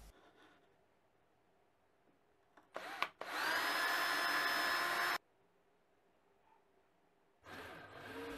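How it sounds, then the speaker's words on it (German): A power drill bores holes in wood in short bursts, one long steady whine of a couple of seconds, followed by quiet and then another burst starting, close by. "werden in den Boden einige Löcher gebohrt"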